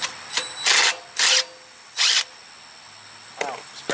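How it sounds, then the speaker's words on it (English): 10mm bolts on the rear brakes of a 1987 Yamaha Moto-4 YFM225 ATV are removed with a power tool, giving three or four short, loud whirring bursts separated by quiet pauses. "I'm going to take off these 10mm bolts."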